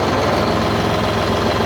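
A Deutz Fahr 55 HP tractor engine running with a light rev, giving a steady, even mechanical drone with a pulsing low rumble, heard close and alone with no talk.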